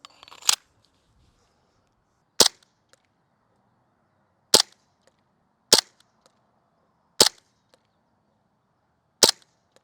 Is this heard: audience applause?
no